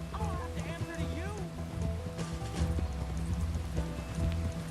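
A horse gallops in the video game Red Dead Redemption 2, rapid hoofbeats clattering under music and game dialogue, with voices speaking over the ride.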